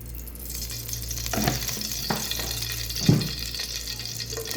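One to two tablespoons of oil heat in a pan for chicken biryani, giving a soft steady sizzle over a low hum, broken by a couple of sharp knocks against the pan.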